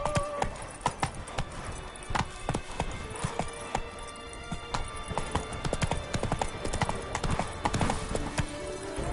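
Horse Roach galloping in The Witcher 3 game, rapid continuous hoofbeats up close with dense clattering rhythm and a faint whinny.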